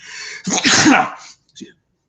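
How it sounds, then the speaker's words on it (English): A single loud, close sneeze: a sharp intake, then an explosive burst, followed by a short breathy sound. "Gotta sneeze."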